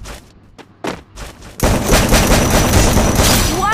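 Gunfire bursts in a battle royale shooter game, with sparse shots at first and then dense, loud sustained firing for the rest of the clip; no talk over it.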